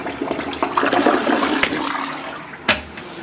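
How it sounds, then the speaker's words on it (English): A Kohler toilet in a hotel bathroom flushes with a loud, close rush of water that fades over a few seconds and ends with a brief sharp clunk. "Got a Kohler toilet, and we'll flush it"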